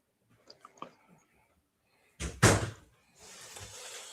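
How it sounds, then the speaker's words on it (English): A door thuds shut with a loud, close slam after a few faint clicks, followed by a softer rustling knock as it settles. "Close that door."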